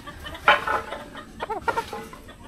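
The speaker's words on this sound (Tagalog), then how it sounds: "Tingnan nyo yung manok na ito." A pure Golden Boy bloodline rooster clucks close by, a few short, separate calls over quiet background noise.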